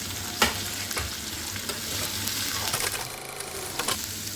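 A ladle scrapes and clatters through onions sizzling in hot oil for baingan bharta, steady frying crackle with a sharp knock near the start.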